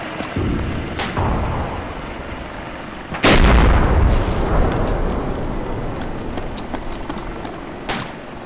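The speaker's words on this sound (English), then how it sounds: "Uh-oh, I'm hearing gunfire." Several loud gunshot blasts, one heavy boom near the middle, with a rumbling, noisy battle ambience continuing between shots, from a realistic military video game.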